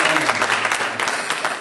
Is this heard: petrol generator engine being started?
no